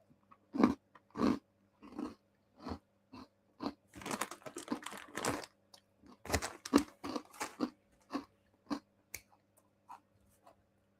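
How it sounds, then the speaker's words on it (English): Crunchy Lidl wasabi mix rice snacks being bitten and chewed close to the mic, a steady run of sharp crunches in irregular bursts with short pauses, alone without talk. "There is going to be munching"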